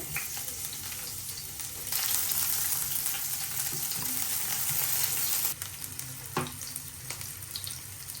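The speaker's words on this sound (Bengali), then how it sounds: "এই যে তেল দিয়ে দিচ্ছি শুকনো মরিচ দিয়ে দিলাম আর এখানে দিয়ে দিলাম পেঁয়াজ কুচি" Dried chilies and chopped onion frying in mustard oil in a home kitchen, a loud steady sizzle that swells as the onion goes in, with a few clinks and stirring knocks.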